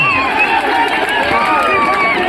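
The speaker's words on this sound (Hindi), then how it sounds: "शान हिंद के लिए तालियां बजाओ" A large outdoor crowd at a political rally in a stadium roars and claps under a loud amplified voice that carries tonal, sung-out calls over the noise.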